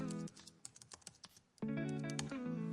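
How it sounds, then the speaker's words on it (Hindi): Quick keystrokes on a computer keyboard as a file name is entered, a short run of light, irregular clicks followed by a steadier tone-like hum, quiet and close, with no talking. "फाइल का नेम लिखते हैं"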